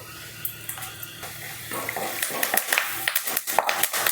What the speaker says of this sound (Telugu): కొంచెం ఫ్రై అయిన తర్వాత కరివేపాకు వేసుకుందాము.